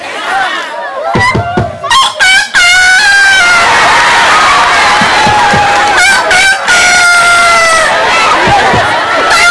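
A child imitates a rooster's cock-a-doodle-doo with the voice, giving several loud, close, drawn-out crowing calls in a row with short breaks between them.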